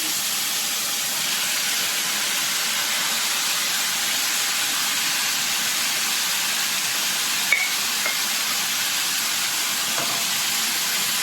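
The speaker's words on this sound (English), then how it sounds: "we are going to add the minced beef" Minced beef frying in a pan, giving a dense, steady, loud hissing sizzle that holds evenly throughout with one small click near the end.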